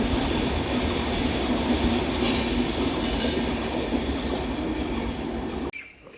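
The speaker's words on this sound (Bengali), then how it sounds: "ওই দেখো ট্রেন যাচ্ছে" A train rumbles past close by in the Buxa Tiger Reserve forest, steady and loud with a rattling, clattering roar and faint wheel squeal, then cuts off abruptly near the end.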